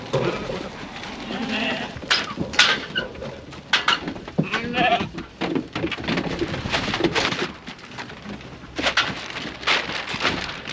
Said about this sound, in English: Hard work loading lambs.